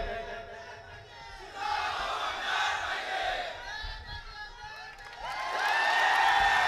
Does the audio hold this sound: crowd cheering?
yes